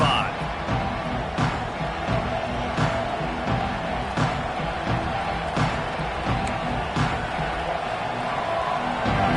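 A football stadium crowd roars steadily at an LSU Tigers game around the opening kickoff, a dense, continuous wall of distant cheering with scattered sharper whoops and bangs rising through it.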